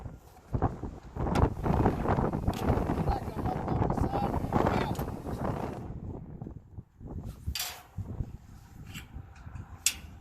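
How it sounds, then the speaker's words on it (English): Strong gusts buffet the microphone in heavy roaring bursts, with someone talking over the wind. "Hey, it's really getting windy. I mean, treacherously windy."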